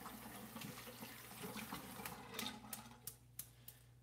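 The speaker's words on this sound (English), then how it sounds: "Let me rinse this brush out real quick." A shaving brush is rinsed under a running tap, giving a steady, faint stream of water with a few sharp clicks and taps near the end.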